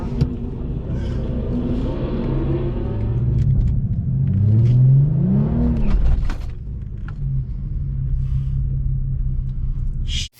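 A car does a burnout at a drag strip with traction control left on, its engine revving and rising in pitch over a loud rumble before cutting off abruptly at the end.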